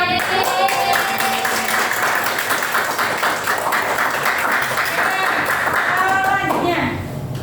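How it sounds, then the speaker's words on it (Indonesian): A classroom of students applauds a winning group, steady clapping filling the room at close range with some voices mixed in, then tapering off at the end. "Beri tepuk tangan."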